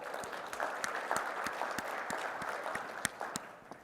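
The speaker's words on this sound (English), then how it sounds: "How about a round of applause for you guys?" A conference audience applauding a data dictionary work group, fairly faint and distant, a thin spread of claps with a few sharp individual claps standing out near the end.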